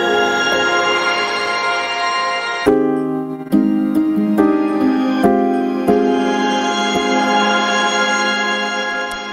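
A glitchy piano part from a hyperglitch electronic track sounds in sustained chords, with several sharp struck chord changes and stuttering cuts partway through, played alone without any talk.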